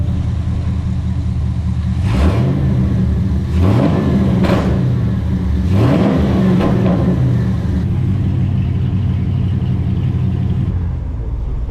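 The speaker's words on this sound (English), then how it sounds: "Rev it a little bit." A 5th-gen Chevrolet Camaro SS with a violent shaking fault idles with a deep rumble, then revs up and falls back in several repeated rising swells, close and loud, before settling to idle.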